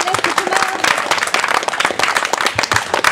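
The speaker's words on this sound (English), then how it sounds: "Come on, big round of applause." Enthusiastic audience applause rings out at a deadlift strongman event, dense clapping with shouts and cheers mixed in, loud and close throughout, with voices calling over it.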